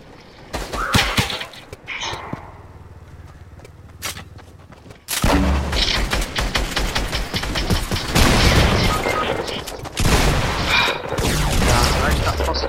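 Gunfire from the Fortnite Mobile video game: a quiet stretch with scattered shots, then dense, loud bursts of rapid in-game firing from about five seconds on, with a voice speaking under the action.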